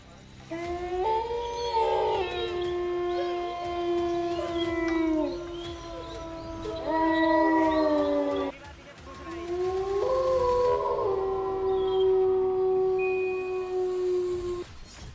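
Wolves howl in long, rising and falling tones, several voices overlapping in sustained waves with a short break partway, loud and fairly close.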